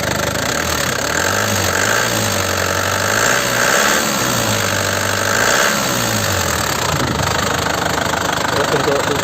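Engine of a 2008 LM Smart Turbo revving close up with a loud, continuous roar that rises and falls in several swells while someone talks over it.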